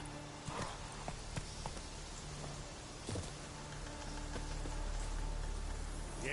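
Hooves of Roach, a horse in The Witcher 3, beat out a quiet, uneven clip-clop over low background ambience, with a few sharper knocks standing out.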